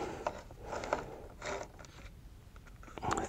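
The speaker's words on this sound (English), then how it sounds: "now I just need to get my Torx driver back in the right position to take the last bolt out" Torx driver working the last bolt loose on a Nissan 370Z during a trim removal, giving a few quiet clicking, ratcheting turns spaced across a short stretch, close up and faint over room noise.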